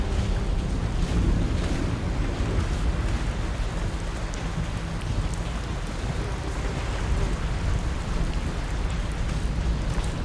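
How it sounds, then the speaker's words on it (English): Pouring rain under a dark, harsh sky in the horror video game Crisol: Theater of Idols, a dense, steady roar of downpour holding at constant loudness for ten seconds with no voices. "a very dark, harsh sky with pouring rain"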